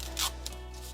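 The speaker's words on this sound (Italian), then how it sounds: "con lo scotch di carta, sempre che venga via" Close, raspy ripping and rubbing of paper masking tape being pulled and pressed down around a miniature waterfall diorama before plastering, a few quick bursts over a low steady hum.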